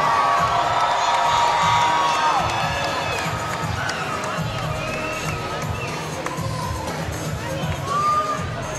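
A large crowd at a live MMA fight in Georgia cheers, whoops and screams continuously throughout, loud and dense, with scattered shouts rising above the roar before the bout begins.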